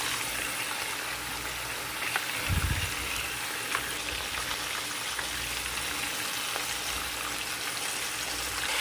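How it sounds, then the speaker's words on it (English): Two cups of water pour into a cooking pot holding a large amount of beef, a brief gushing splash near the middle over a quiet, steady background hiss. "This is 2 cups of water."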